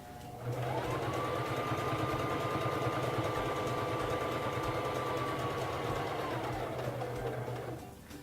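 A Singer Fashion Mate 3333 sewing machine stitches a buttonhole, running in one smooth, steady whirring burst of about seven seconds before winding down, close and alone.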